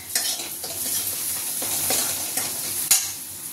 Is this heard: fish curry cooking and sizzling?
yes